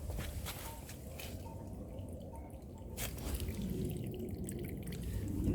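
Water draining from the tap of a rainwater container at a garden potting shed, running in a steady trickle with drips and a low continuous splash, alone and fairly faint.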